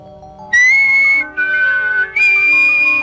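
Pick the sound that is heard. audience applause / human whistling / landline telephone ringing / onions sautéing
human whistling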